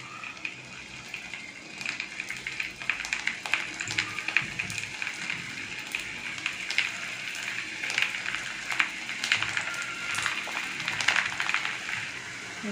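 Battered cauliflower pieces deep fry in hot oil in a kadai, giving a steady, fairly close hiss and crackle with scattered pops throughout and no talk.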